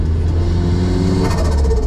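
Turbocharged Mazda Miata engine revving while cruising city streets in Brisbane, a loud, close, steady roar with strong low rumble that rises in pitch and intensity toward the end, heard alone without talking.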